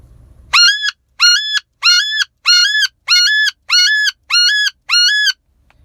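A whistle call imitates the flight call of wood ducks: eight evenly spaced, loud, rising squealing notes in a steady rhythm, close and clear against silence.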